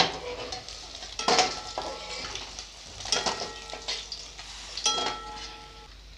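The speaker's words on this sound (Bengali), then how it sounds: "তেল গরম হয়ে গেছে মাছগুলো ভেজে নিব" Hot oil sizzles steadily as snakehead fish fry in a pan, broken by several bursts of stirring and metal utensils scraping and clinking against the pan.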